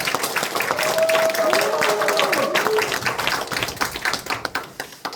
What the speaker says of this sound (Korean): 그럼 여러분들 큰 박수로 모시겠습니다.